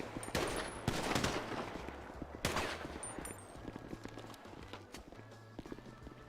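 Video game gunfire as hostages are shot: rapid bursts of shots and loud cracks early on, then scattered impacts and footsteps fading under a steady low game hum, with no clear speech.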